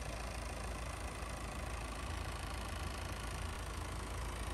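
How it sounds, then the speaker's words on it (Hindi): Citroën C5 Aircross DW10 diesel engine, 174 horsepower, idling with a steady, even low rumble that holds unchanged throughout, close and alone with no talk. "सिट्रोएन DW10 डीजल इंजन है ये"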